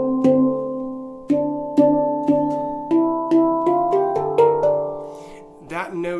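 Handpan notes struck by thumb ring out one after another, about ten clear metallic tones in a slow steady sequence, with harder hits producing a warbling wobble; a final note near the end warbles noticeably.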